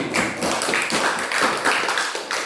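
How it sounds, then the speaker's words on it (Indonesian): Classroom of students clapping for a student group, a dense, steady patter of many hands at moderate loudness, fairly close, with no talking over it. "Tepuk tangan dulu untuk kelompoknya Budi."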